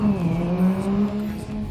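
A race car engine in a racing sim video game hums steadily with a gently shifting pitch, a continuous mid-level drone with no talk.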